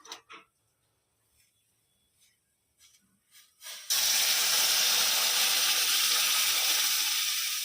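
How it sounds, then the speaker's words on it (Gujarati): Water poured into a pan of wheat-flour shiro sweet pudding, a sudden loud steady hiss and sizzle that starts partway through after a few faint clinks and stirs. "હવે આપણે નાખી દઈએ એમાં પાણી"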